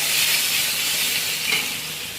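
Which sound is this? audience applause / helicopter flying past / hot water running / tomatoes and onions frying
tomatoes and onions frying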